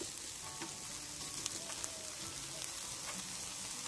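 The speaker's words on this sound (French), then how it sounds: "Je vais bien faire revenir les oignons." Onions sautéing in a pan, cooked outdoors, giving a soft, steady sizzle and crackle with occasional light pops, fairly quiet and continuous.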